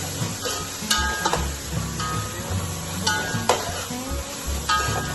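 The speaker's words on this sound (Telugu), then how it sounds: "మనం ఫ్రై చేసే టమోటాల్లోనే పుదీనా అండ్ కొత్తిమీర కూడా మిక్స్ చేసి లైట్ గా ఫ్రై చేసుకోవాలి." Tomatoes mixed with mint and coriander fry lightly in a pan, a steady close sizzle with scattered spoon scrapes and clinks against the pan and faint background tonal sounds.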